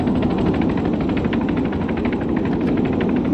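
Helicopter in ARMA 3, a loud steady rotor drone with fast chopping pulses and a deep engine rumble, close and continuous with no talk.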